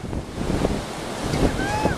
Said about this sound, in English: It's strong, that ocean